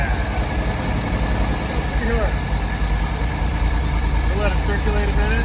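A 1971 Ford custom van engine, long abandoned, runs at a steady idle, a continuous low rumble throughout with a voice speaking briefly over it.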